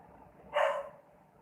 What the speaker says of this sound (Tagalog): Yung aso mo yun.